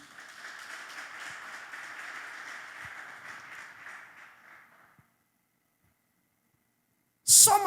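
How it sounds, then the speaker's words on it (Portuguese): A church congregation applauds during a sermon, a soft, distant wash of clapping that fades away after about five seconds, followed by silence and a brief loud burst at the end. "Você pode aplaudir Jesus por isso?"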